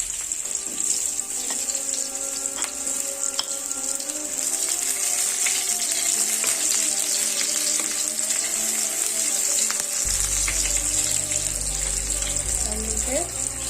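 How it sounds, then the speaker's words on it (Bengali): Onion fries in hot oil for a paneer curry, a steady bright hiss and sizzle that stays even and close throughout, with a deeper low rumble joining near the end. "তেলটা আমার গরম হয়ে গেছে, এবার এর মধ্যে একটু পেঁয়াজ"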